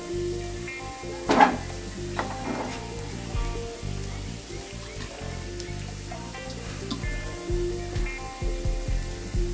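Onions sizzling steadily in a pan after about three minutes of frying, with curry leaves dropped in for a sharp burst of crackle, then continuous close frying hiss and light stirring, no voices.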